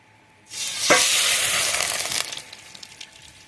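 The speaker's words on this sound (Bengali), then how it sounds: "এবার একটু বেশি পরিমাণের ঘি দেবো, দিয়ে কিন্তু এর মধ্যে আমি দিয়ে দেবো লিকুইড দুধ" Ghee and liquid milk poured into a hot nonstick kadai burst into a loud, sustained hiss and sizzle that starts abruptly, holds for about two seconds, then settles to a softer bubbling.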